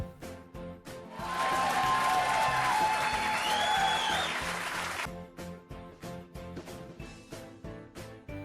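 A circus crowd bursts into loud applause and cheering for a few seconds amid rhythmic music with a steady beat that continues after the clapping fades.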